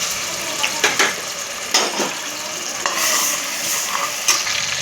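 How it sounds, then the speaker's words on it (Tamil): Ginger, garlic and shallots frying in plenty of oil for a mutton and broad bean kurma, a loud close sizzle broken by repeated stirring scrapes of a spoon against the pan. "இஞ்சி பூண்டு சின்ன வெங்காயம் எல்லாம் போட்டுக்கலாம்."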